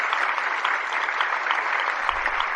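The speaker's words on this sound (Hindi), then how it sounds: "अपना आप सुनते ही खुशी हो गई, तालियां बज गई" Sustained audience applause at a satsang, a steady even wash of many hands clapping close by, with a brief low rumble near the end.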